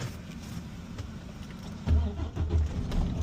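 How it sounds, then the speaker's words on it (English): A truck's diesel engine cranks and catches during an in-cab air brake check, a low steady rumble that swells loudly near the end and then settles into a deep idle close by. "I will now start the truck."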